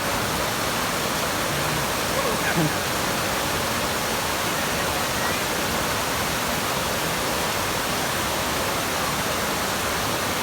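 A waterfall on a hiking route in the Lake District gives a steady, loud, broadband rush of falling water that holds evenly throughout, with no talk.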